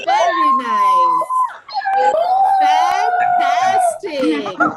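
Children's voices imitate foxes howling, giving loud, drawn-out wavering howls and yelps that overlap one another, close and lively.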